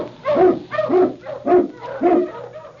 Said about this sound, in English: King, the swiftest, strongest of Eskimo lead dogs